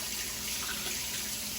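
Tap water runs steadily from a faucet as lime is rinsed off an egg, a continuous close hiss of flowing water, alone and unbroken.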